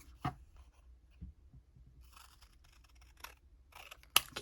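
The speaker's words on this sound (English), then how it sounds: "I'm going to cut this off." Scissors snip paper while a tab is trimmed from an autumn journal page, a few quiet, sharp cuts spread across a soft background.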